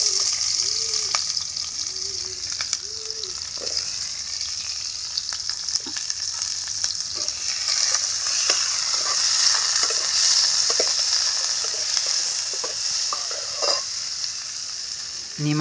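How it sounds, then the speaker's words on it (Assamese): Onions fry in mustard oil in a hot wok with a steady, close sizzle. The hiss swells toward the middle, and a few light stirring clicks and clinks sound throughout. "পিঁয়াজখিনি এতিয়া প্ৰথমতে ভাজি ল'ব"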